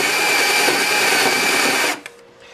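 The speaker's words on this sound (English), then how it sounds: "I'm going to put the tip down in the hole and then start drilling" Power drill whines steadily as it bores through a lacquered wooden cigar box for a guitar build, running loud and close for about two seconds before stopping abruptly, with a faint click after.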